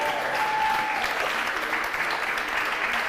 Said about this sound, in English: Let's have a big cheer for just girls in general.